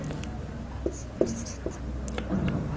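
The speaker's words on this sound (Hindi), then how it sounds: "इधर हम लिख लेते हैं" Handwriting a math answer for a cost calculation in a ninth-grade general math lesson, soft scratchy pen strokes with a few sharper taps, close and fairly quiet, with no voices.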